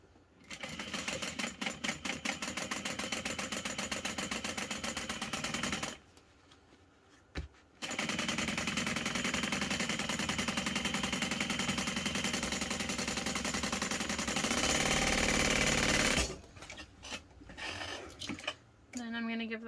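A sewing machine bastes foam onto a backpack piece, running in long rapid stitching bursts close up, broken by a brief pause and then short stop-start runs at the end.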